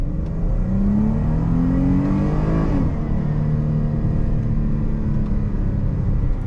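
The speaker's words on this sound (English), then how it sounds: "even when we're at a standstill and we floor it instantly" A Chrysler 300 launches hard from a standstill, its engine note climbing in a loud rising rev before easing off into a steady, lower rumble, heard up close with no talking.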